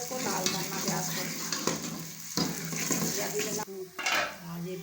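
Onions fry and are stirred in a pan until reddened, a close steady sizzle broken by scraping and clanking of a spoon against the metal pan, with no talking.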